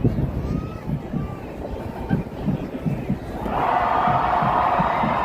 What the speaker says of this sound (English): we can hear the cheering for Santa